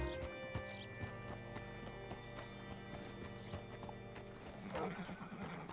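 Horse hooves clip-clop steadily while a horse whinnies, with some faint voices in the background, in a Red Dead Redemption 2 video game scene.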